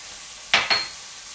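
Masala spices for egg biryani are stirred in a pan, making two quick, close scraping stir strokes with a brief sizzle over a quiet background.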